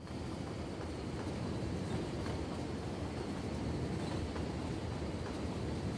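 Intercity train rolling along the tracks in the Cities: Skylines city-building game, a steady, continuous rumble that holds at an even level throughout, with no voices.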